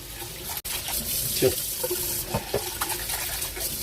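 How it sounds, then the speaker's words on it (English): Tap water runs into a sink as jasmine rice is rinsed and stirred, a close, steady splashing stream with a few sloshing surges and a brief dropout near the start. "Wash it a couple of times, stir it a couple of times, then just rinse it."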